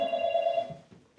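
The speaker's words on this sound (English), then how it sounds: "That's the phone, Ken." An old-style telephone bell rings in a short electronic-sounding burst lasting under a second, fairly close, then cuts off into quiet room tone.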